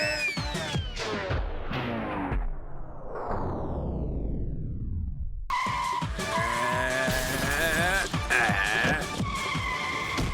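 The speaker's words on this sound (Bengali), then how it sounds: "গাড়ির আওয়াজ তো পেয়েছিলাম" Cartoon car skids past with a long descending tire squeal, then a loud, dense burst of engine and music-like noise follows for several seconds, all fairly close and without speech.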